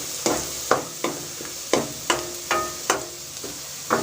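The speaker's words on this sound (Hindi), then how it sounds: "प्याज जो है वो हमारी ब्राउन हो रही है।" Onions fry and brown in a pan, a steady sizzle punctuated by about ten quick, regular scrapes of a spoon stirring them, close and moderately loud.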